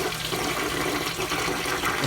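An American Standard Cadet toilet from 1970 flushes weakly, producing a loud, close, steady rush and gurgle of water that carries on through the whole moment without any talking.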